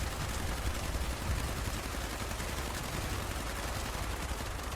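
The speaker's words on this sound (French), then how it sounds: "Faites attention au tir, faites attention à vos lignes de tir." Gunfire in the video game Fallout 76, a dense, continuous wash of shooting and noisy action for the whole stretch, steady and fairly loud with no distinct pauses.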